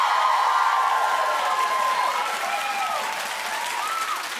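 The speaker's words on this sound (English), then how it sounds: "Clap." A studio audience at a TV talk show claps and cheers in a steady, dense burst that fades slightly toward the end, with some whooping above the clapping.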